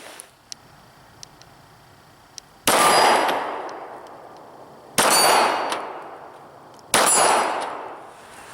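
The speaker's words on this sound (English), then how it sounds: "for that center mass area on our target out there, the steel plate, we're able to ring it without a problem at all" Three loud metallic clangs from 9mm rounds fired by an M&P 9c pistol striking a steel plate target outdoors, each hit ringing out and slowly fading, spaced about two seconds apart with faint ticks before the first.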